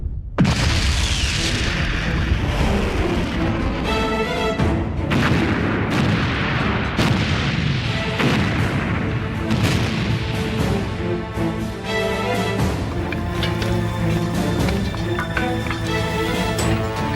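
Long-range artillery fires in a military helicopter ambush scene, heavy booms and blasts repeating under a dense, loud, continuous roar of battle.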